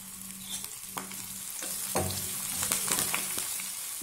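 Small shallots and curry leaves frying in a pan for thinai pongal, a loud steady sizzle with crackling pops and repeated spoon scrapes and taps as they are stirred, with no voices.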